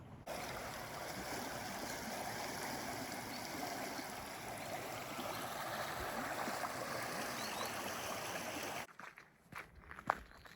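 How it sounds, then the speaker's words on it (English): Creek at Lake Creek Campground in Alaska, a steady broadband rush of flowing water close by, continuous for several seconds before cutting to quieter outdoor sound with a brief thump. "Here's the creek."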